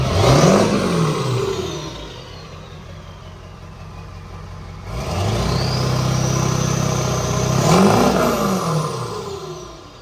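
A 232,000-mile Ford 7.3 diesel pickup with a PHP Hydra tune, turbo wheel upgrade and up-pipes is revved hard twice, each throaty climb and fall set against a steady idle rumble and rising turbo whistle.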